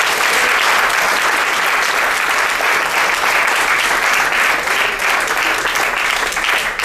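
Loud, dense applause from an audience at a Hindi poetry recital fills the clip, a sustained roar of clapping with no break from start to finish.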